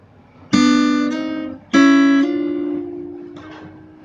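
Acoustic guitar playing the intro from Teefa In Trouble, with two bright plucked notes sliding up the neck, each ringing out, then a softer third note fading away; no voices.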